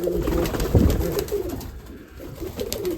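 Mykolaiv breed pigeons cooing in a loft in Tsarychanka, a steady stream of low throaty coos close by over a noisy background.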